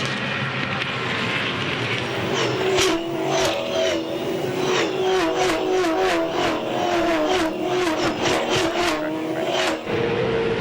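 V8 Supercars race on the Darwin circuit in 2011, their engines producing a loud, continuous roar with revving and cars passing close by throughout, and no talking.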